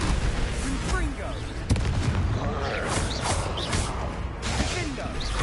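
Confringo explosion spell cast during a Hogwarts Legacy battle, heard as sharp blasts and booming bursts over a dense, noisy layer of combat effects, with the loudest hits near the start and again toward the end.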